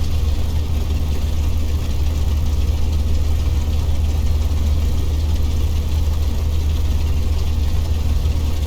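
Light aircraft piston engine idling just before shutdown, a steady loud low-pitched drone with a slight knocking pulse, continuous and close throughout with no speech.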